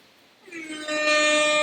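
A single loud air horn blast swells in and holds steady, a brassy sustained honk with no talking.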